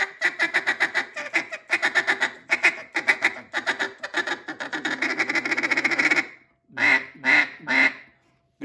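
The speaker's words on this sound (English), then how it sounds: "Soft quack." Soft, breathy quacks blown on a double reed duck call, a dense run of short rhythmic notes for about six seconds, then three louder separate quacks after a brief pause, close and alone.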